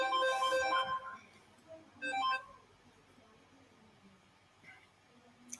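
A mobile phone rings during a lecture, two bright melodic tone bursts separated by a short gap, followed by faint room noise and small handling sounds.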